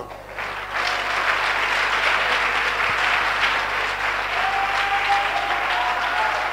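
A church congregation claps loudly and steadily in a French and English worship service, the applause swelling after the first second and holding as a dense, continuous wash with no voice above it.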